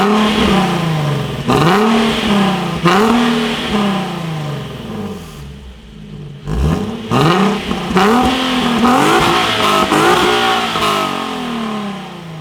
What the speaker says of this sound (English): So I'm gonna show you what the car sounds like now